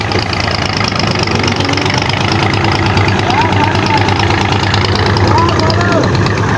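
Tractor engine idling after a push start in a farm field, a loud, close, steady knocking chug running throughout with people talking over it.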